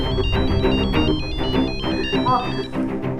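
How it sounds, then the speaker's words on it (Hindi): A mobile phone ringtone plays a bright, repeating electronic melody over a busy indoor scene, loud and close, with people talking over it. "किसका फोन है?"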